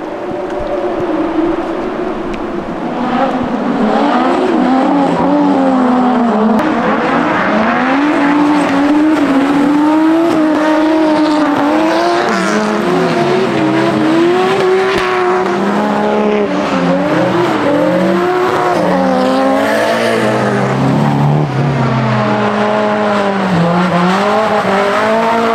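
RB25-engined car drifting on a mountain road, loud engine revving with wavering pitch over sustained tire squeal and skidding, continuous and close throughout.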